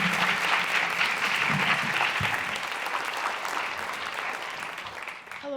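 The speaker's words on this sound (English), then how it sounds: "Let's give them a round of applause." Reception audience applauding a panel at a scholar awards event, steady dense clapping with faint voices mixed in, thinning out toward the end.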